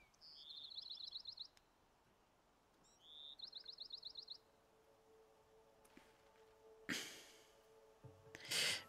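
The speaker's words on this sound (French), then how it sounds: "Il y a des bruits d'oiseaux" Birds chirp in the video game Horizon Zero Dawn, two quick rhythmic trilling bursts of high tweets, fairly close, followed by a couple of brief rustling noise bursts against quiet ambience.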